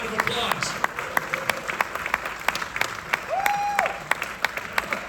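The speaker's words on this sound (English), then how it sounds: "Give Xander a big round of applause." An audience applauds actor Xander Berkeley at a film premiere panel, with a steady patter of clapping and scattered sharper claps throughout, moderately loud, and a short tone sounding partway through.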